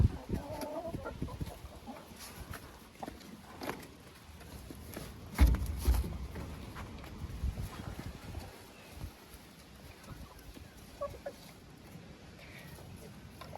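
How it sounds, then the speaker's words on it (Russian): Chickens cluck softly in a coop at a country dacha, with scattered bird calls over scuffing, knocking and scraping, including one sharp thump midway. "Куры очень любят в песке рыться"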